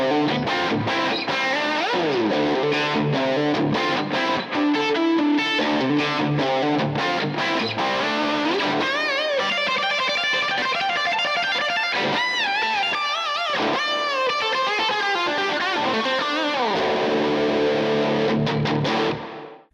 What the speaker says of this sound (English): Let's hit the riff test on the Green Widow.